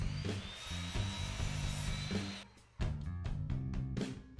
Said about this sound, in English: Now I'll cut them down to size